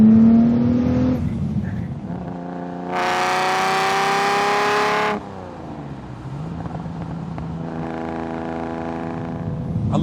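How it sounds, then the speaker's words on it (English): A Lamborghini 400GT's V12 roars through four tailpipes, loud and close, with a steady running note that surges into a sustained high rev for a couple of seconds before settling back to a smooth cruise. "those 4 tailpipes with that V12 soundtrack, just beautiful"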